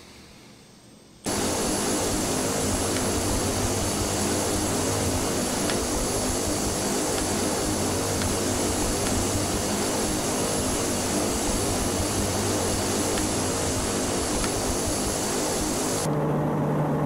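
A Pilatus PC-12 turboprop engine in the Carenado add-on for Prepar3D and FSX starts up abruptly after a quiet moment, then holds a loud, steady, droning roar with a sustained whine through to the end.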